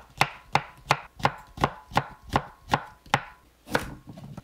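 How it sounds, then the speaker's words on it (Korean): A knife thinly slices a quartered, seeded cucumber on a cutting board, about ten crisp, evenly spaced chops sounding close and clear. "오이는 4등분 해서 가운데 씨를 제거합니다. 얇게 썰어주세요."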